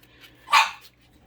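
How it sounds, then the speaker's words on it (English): A single sharp dog bark rings out at moderate distance, with a fainter yip just before and after against a quiet background. "We also got some dogs, so y'all hear them in the background occasionally."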